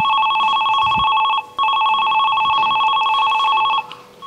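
A telephone rings with a steady electronic trill, two bursts separated by a brief gap near the middle, loud and close with no talk over it.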